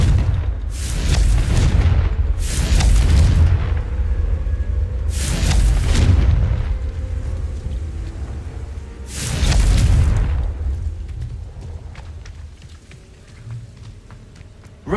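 Four heavy, booming blasts from the Confringo explosion spell in Hogwarts Legacy roll out at intervals, each a loud, deep burst that swells and fades into quieter ambience between them.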